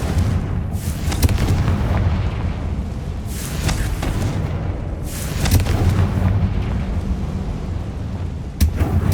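Spell explosions go off in the video game Hogwarts Legacy: several heavy booms burst out one after another, a few seconds apart, each fading into a rumbling tail over steady game ambience.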